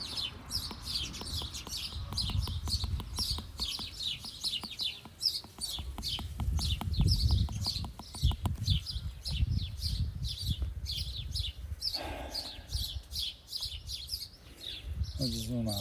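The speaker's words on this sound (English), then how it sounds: "Just a noisy bird." A noisy bird chirps repeatedly outdoors in sharp, rapid tweets, fairly close and persistent, with a person murmuring underneath at times.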